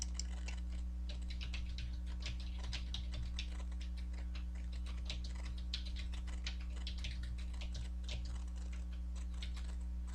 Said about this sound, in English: And in here, I will type my poem.